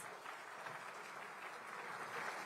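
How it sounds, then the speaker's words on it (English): Faint, distant applause from an audience at a ceremony honouring the armed forces, a steady low wash of clapping throughout with no talk. "That surely was one performance which was deserving of a huge round of applause."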